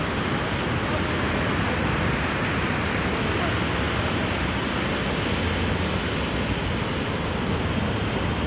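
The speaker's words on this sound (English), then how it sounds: "See how big these waves are." Big ocean waves break at Jaco Beach, Costa Rica, making a continuous loud roar of surf that holds steady throughout with no pauses.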